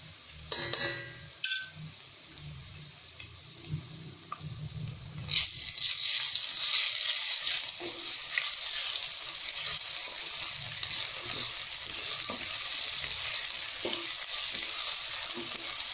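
Garlic-ginger paste goes into a hot pan for a mushroom and peas curry: a few clinks and taps of utensils, then a loud, steady sizzle of frying that continues to the end with occasional stirring scrapes.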